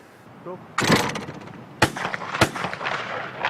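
A shotgun fires at clay targets during WWII RAF gunnery practice. Three loud, sharp blasts ring out about a second apart, each with a short echoing tail, and a brief voice comes before the first.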